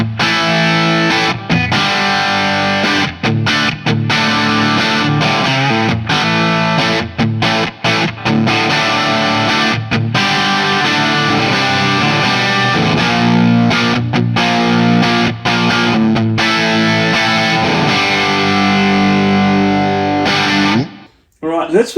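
An electric guitar on a humbucker pickup through a 1970 Marshall JMP 50W amp plays loud, crunchy distorted chords and riffs with driven breakup for about twenty seconds before stopping abruptly.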